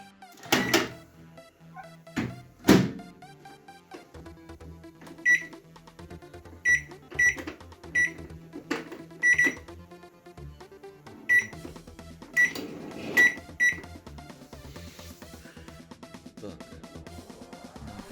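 Samsung ME732R microwave oven after a wiring repair, giving a series of short high electronic beeps among loud clunks and thuds, with a low running hum beneath and no talk.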